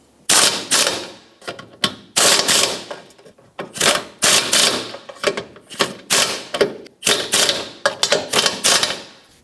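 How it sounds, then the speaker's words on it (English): Nuts being run onto studs on the rear bumper impact absorber of a 2012-2017 Toyota Camry, loud close bursts of rapid ratcheting rattle in repeated short spurts separated by brief gaps. "So now let's put the mounting nuts on."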